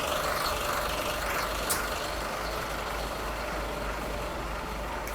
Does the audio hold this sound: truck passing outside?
yes